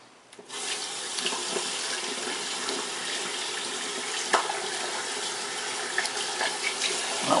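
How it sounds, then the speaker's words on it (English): Tap water gushes into a sink for washing hands before shaving, starting abruptly and then running in a steady, close, continuous splash with no talking. "I'm gonna wash our hands off a little bit"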